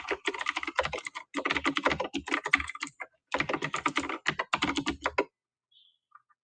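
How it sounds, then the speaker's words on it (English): Fast, continuous clatter of typing on a computer keyboard, with close, crisp key clicks in bursts separated by a brief pause, then stopping near the end. "I practiced typing that one."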